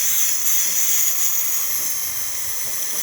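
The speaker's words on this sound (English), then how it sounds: "As you can see, it's a nice steady steam coming out of the one." Steam from the steam wand of a DeLonghi Magnifica coffee machine makes a loud, steady, close hiss that holds constant for several seconds without a break.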